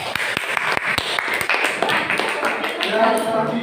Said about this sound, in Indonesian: Tepuk tangan untuk Kansa.